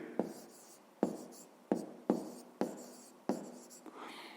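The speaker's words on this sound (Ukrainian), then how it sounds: "Пишемо відповідь." A pen writes an answer by hand on paper, giving a steady series of short, close scratching strokes with brief pauses between them, quiet and alone.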